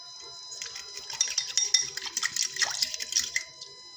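A spoon stirring cornflour and water in a bowl, giving quick light clinks and scraping swirls that rise and fall for a few seconds, close and fairly clear.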